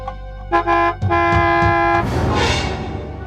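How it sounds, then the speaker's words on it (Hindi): A car pulls up and sounds its horn in a few loud, steady toots, the last one long, followed by a rush of engine and road noise. "ये तो गाड़ी की आवाज है"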